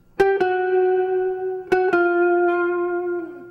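Two sustained electric guitar notes, each struck sharply and slid, ringing out with distortion and fading at the end.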